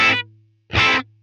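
Electric guitar run through a Line 6 Helix reverb at full mix, giving a darker tone: two loud, bright strummed chords each trailing into a sustained, fading low reverb tail, with no talking.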